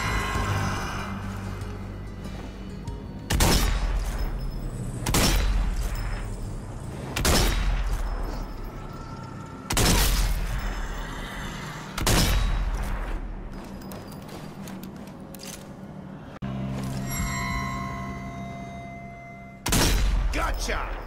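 Gunfire at zombies in the shooter game Dead Army: loud bursts of shots recur every couple of seconds over a continuous game soundtrack.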